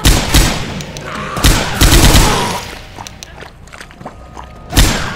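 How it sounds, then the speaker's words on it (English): Big gun firing in the Left 4 Dead 2 video game, loud close bursts of heavy gunfire in uneven clusters, mixed with thuds and the clatter of footsteps between shots. "I'm grabbing the big gun."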